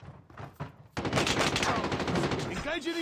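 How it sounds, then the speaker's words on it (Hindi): Sustained rapid gunfire from Call of Duty Mobile, loud and continuous after a brief quieter stretch with scattered shots, ending with a rising tonal sweep. "ले बेटा चला गन चला"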